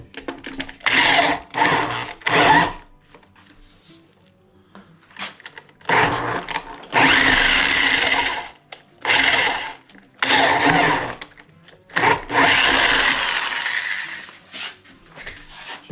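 A power drill bores into a 2x4 held in a vise, in several bursts of a few seconds each separated by short pauses, loud and close.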